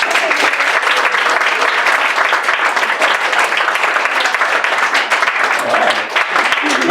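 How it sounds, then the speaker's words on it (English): Dense, steady applause fills a stand-up comedy room, a crowd clapping loudly and continuously with no break before fading slightly near the end. "Another round of applause for Evan."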